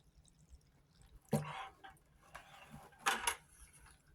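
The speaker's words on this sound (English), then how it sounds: "Dump some of this nasty water with organics in it." Two short bursts of dirty water with organic matter being dumped, splashing and pouring a second apart, with quiet dripping and faint background noise between them.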